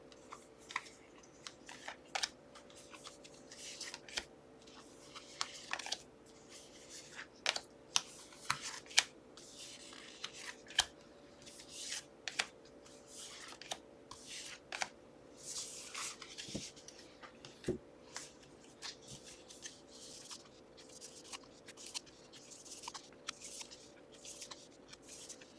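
Tarot cards are shuffled and drawn in a quiet room, giving soft, close papery riffles, flicks and sharp taps that come in irregular bursts over a low steady hum.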